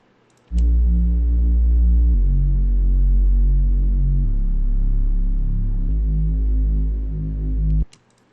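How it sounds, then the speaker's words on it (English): A thick, buzzing low Reese bass made in Serum holds long notes that shift pitch a few times, with a warm, slightly detuned throbbing texture, played alone. "So the next thing I did is I added in this Reese bass here"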